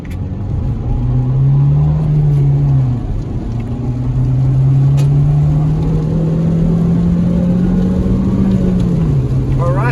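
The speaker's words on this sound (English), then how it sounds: "Well, it hit VTEC." A 2004 Honda Civic EX engine, just fitted with a new VTEC solenoid, revs in long rising and falling sweeps, loud and close, the pitch climbing as it winds up.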